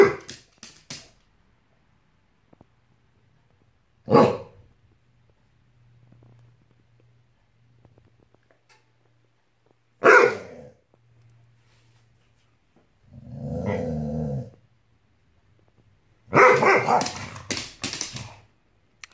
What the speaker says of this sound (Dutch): Dan ga je blaffen en met je kluif in je bek.